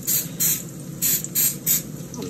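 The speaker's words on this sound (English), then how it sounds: "I'm just going to spray it with some coconut oil cooking spray." Coconut oil cooking spray hits a mini waffle maker in five short, bright hissing bursts in an even rhythm, close and fairly loud over a low background hum.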